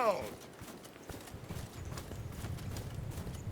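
Cavalry horses in the Mount & Blade II Bannerlord video game clip-clop along as a soft, continuous patter of hooves, with a brief swooping tone at the start.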